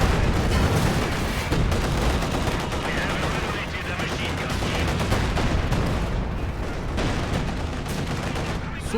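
Dense gunfire and artillery in the World War II strategy game Company of Heroes 2, heard as a loud, continuous barrage of rapid shots and booms lasting the full nine seconds.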